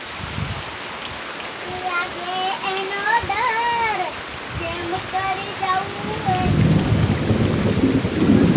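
Steady rain hisses throughout while a voice rises and falls in the middle, then a deep rumble of thunder swells near the end.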